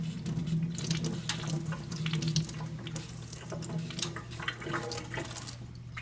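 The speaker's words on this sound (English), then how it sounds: "As we can see, we have water and it's running properly." Tap water flows steadily from a kitchen faucet fitted with a newly installed RPF M91 filter. A continuous, close rushing stream carries on for the whole stretch with no talking.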